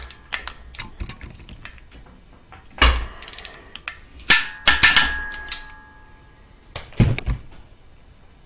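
Torque wrench tightening the cylinder head studs on a 2013 Subaru STi engine, giving a few sharp, separate clicks and knocks spread over several seconds in an otherwise quiet workshop.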